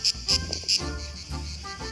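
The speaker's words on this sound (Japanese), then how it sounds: "セミの鳴き声とか日本にちょっと戻ったみたいな感じで" Cicadas sing in summer on Lokrum, the peacock island near Dubrovnik, Croatia, in a few close, high buzzing pulses that then fade into a softer background drone.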